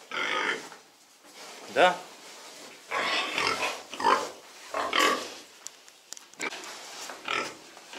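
Duroc, Pietrain and Kantor piglets grunt on a pig farm, a series of short, moderately close grunts and snorts that come in bursts and mix with people talking nearby.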